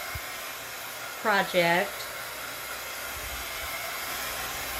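A hair dryer blows steadily on a craft project, its loud continuous whoosh running throughout while a person speaks briefly over it.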